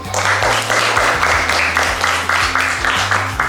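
A grade 5 elementary class applauds a classmate's answer with steady, dense clapping from many hands. Low, humming tones sound underneath throughout.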